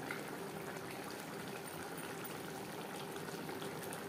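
Puti fish curry simmers in onion and tomato gravy, giving a faint, steady bubbling hiss with soft liquid pops throughout.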